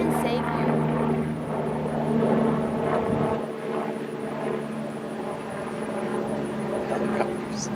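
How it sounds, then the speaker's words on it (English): A helicopter passes overhead with a steady low rotor drone and a sustained engine whine. It stays loud for the first half, then eases slightly, and faint voices can be heard underneath. "Helicopters."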